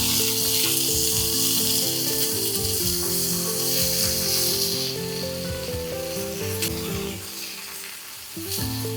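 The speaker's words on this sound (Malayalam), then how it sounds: "ടൊമാറ്റോ കൂടി നമുക്കൊന്ന് ലൈറ്റായിട്ട് ഫ്രൈ ചെയ്തെടുക്കാം." Loud, continuous sizzling from okra and tomato frying in a pan, close up, with occasional stirring and a steady tonal hum underneath.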